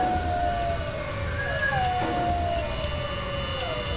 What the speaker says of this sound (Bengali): কাছে থেকে কোনো একটা কুকুর কেঁদে উঠল।